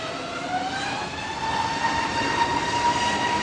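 An EasyJet airliner departs Manchester Airport for Krakow on a windy day, heard as a continuous loud engine roar with a thin whining tone that rises and holds across the stretch.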